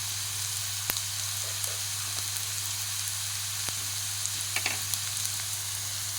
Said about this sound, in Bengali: এরপর মশলাগুলো পেঁয়াজের সঙ্গে ভালো করে ভেজে নেব।